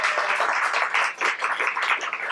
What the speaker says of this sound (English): can we get one more round of applause for our lovely readers?